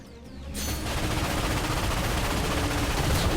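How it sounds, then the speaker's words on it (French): A defensive cannon fires at warships in the PS4 Ratchet and Clank game. A loud, sustained barrage of rapid gunfire begins after a short quieter lead-in and continues without letup. "Monte sur le canon défensif. Je te couvre."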